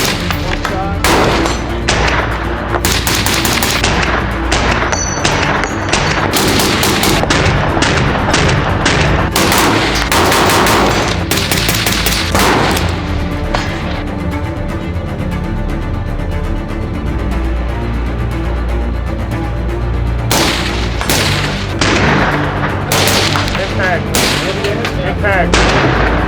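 A carbine fires repeatedly at targets on a range, loud sharp reports in rapid strings separated by brief gaps, with ringing echoes and some muffled talk between volleys.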